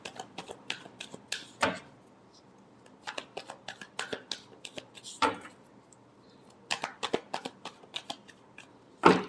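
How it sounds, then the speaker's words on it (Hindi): A deck of tarot cards is shuffled by hand at close range, with repeated riffling bursts and sharp taps as the cards are squared, in uneven clusters across the clip. "Last shuffle."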